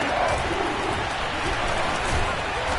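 Stadium crowd at a football game, a dense, steady roar and murmur of many voices filling the whole stretch at an even loudness with no distinct cheer peaks.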